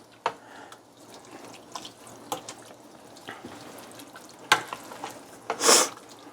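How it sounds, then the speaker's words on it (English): A spoon stirs pre-chopped garlic in a pan on a home stove, with soft scraping and light sizzling throughout, a few sharp clicks of utensil on pan, and a brief louder hiss near the end. "Stir a little more."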